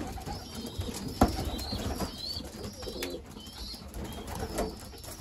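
Racing pigeons coo softly inside a loft, several overlapping low burbling calls against a busy indoor background with a sharp knock early on.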